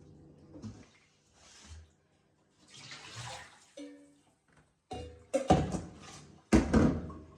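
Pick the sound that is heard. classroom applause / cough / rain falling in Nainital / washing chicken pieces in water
washing chicken pieces in water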